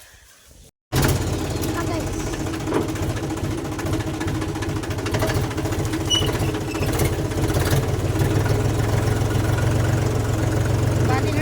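A Mahindra 275 tractor engine chugs steadily and loudly up close as the tractor moves, with a knocking diesel rhythm that starts abruptly after a brief quiet moment. A voice talks over it.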